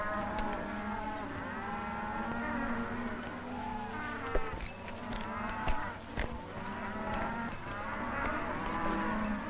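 Cattle moo repeatedly in livestock pens, with long, loud, overlapping calls from several animals and flies buzzing close by, plus a couple of brief knocks partway through.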